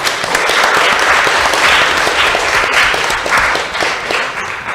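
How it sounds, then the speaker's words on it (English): Steady, dense applause from a seated audience at a Southeast Asian climate panel, sustained and fairly loud throughout with no break. "A round of applause for our friends at the Indonesian Embassy, please."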